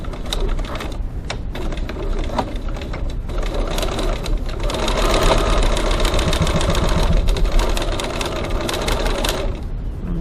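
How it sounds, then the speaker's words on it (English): A sewing machine top-stitches the gusset side of a wallet coin pocket at a 3.4 stitch length with back tacking, producing a continuous rapid mechanical rattle that swells slightly midway and runs without pause, close and loud. "I'm going to top stitch down this gusset side of my coin pocket to secure that into place."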